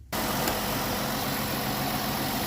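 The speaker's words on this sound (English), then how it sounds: "with the engine running" A car engine idles while its underhood generator is being checked for not charging, starting abruptly and then humming at a steady, even, moderately loud level with no talking.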